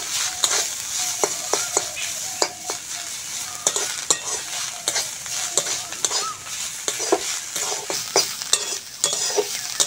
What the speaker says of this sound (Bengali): থোর ভাজাটা হয়ে গেছে, নামিয়ে নেব।